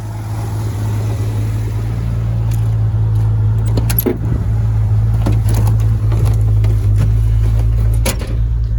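A 1986 Ford F150 4x4 pickup idles and creeps forward into a building, its low engine rumble steady and close, with faint clinks and rattles over it and no voices.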